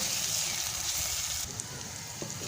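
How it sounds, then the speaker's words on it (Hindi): Garlic and ginger paste fries in a pan for a radish curry, giving a steady, fairly loud hiss and sizzle with soft crackles throughout. "तकरीबन यहाँ पे मैंने 1 मिनट इसको फ्राई किया है लहसुन अदरक के पेस्ट को।"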